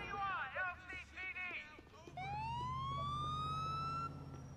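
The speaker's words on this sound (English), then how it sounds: "there's another police car there, though." A police car siren wails in Grand Theft Auto IV, a rapid yelp pattern switching to a long rising wail, heard close amid game sounds and engine rumble.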